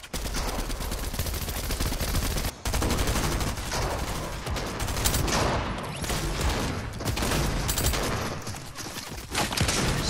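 Gunfire in a Fortnite squads match, with rapid, sustained bursts and repeated shots rattling loudly across the whole stretch and only a brief gap near the start.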